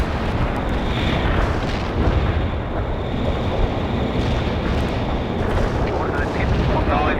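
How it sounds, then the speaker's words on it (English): An artillery barrage in World in Conflict rumbles as a continuous, dense roar of overlapping explosions, loud and steady throughout with no distinct gaps. "Attack commencing the barrage."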